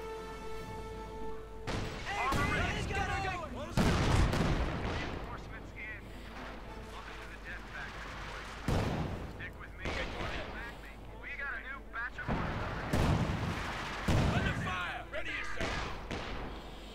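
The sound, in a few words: gunfire and shooting in Company of Heroes 2 video game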